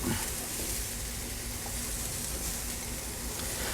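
Anaheim chili peppers sizzle steadily on a hot grill as they char, a continuous bright frying hiss with no talk.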